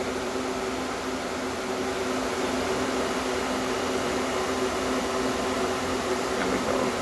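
A homemade air conditioner runs at its first start-up, giving a steady, loud broadband whir with a faint low hum beneath it, unchanging throughout.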